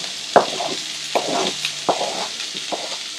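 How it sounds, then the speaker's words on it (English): Chopped tomato goes into a sizzling pan of tawa pulao with greens and is stirred, bringing four sharp scraping strokes over a low, steady frying hiss. "I'm going to add 1 tomato finely chopped"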